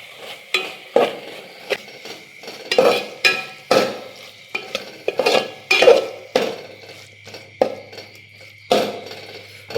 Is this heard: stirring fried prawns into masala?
yes